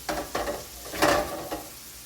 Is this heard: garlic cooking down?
yes